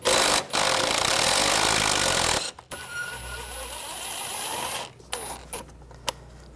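A 10mm socket wrench loosening and removing a bolt near the radiator fan of a 2010-2014 Volkswagen GTI 2.0L, giving a steady close mechanical whir and ratcheting for about two seconds, then quieter scattered clicks and handling noises.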